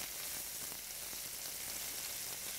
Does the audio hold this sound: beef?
yes